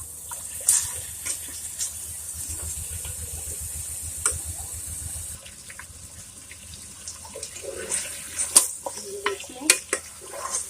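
Meat and onions frying in a pot as they are stirred, a low sizzle with intermittent scraping and clinking of the spoon, growing busier toward the end; no voices.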